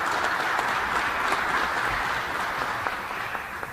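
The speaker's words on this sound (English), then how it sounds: "Let's give them a round of applause." A crowd of guests at the opening of a Buffalo film and television production facility applauds steadily, a dense wash of clapping that holds at an even level throughout.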